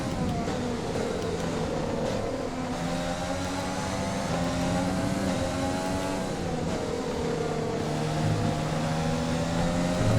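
Formula One race car engine in the F1 2020 video game during a race in Austria, revving continuously through a corner with shifting pitch, steady and loud with no talk.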